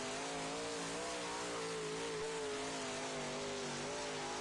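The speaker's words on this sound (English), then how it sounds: "racing a super late model on Brownstown Speedway" A super late model race car runs a dirt-track qualifying lap at Brownstown Speedway, its engine droning loud and steady with rising and falling pitch as it revs through the corners, heard close and alone.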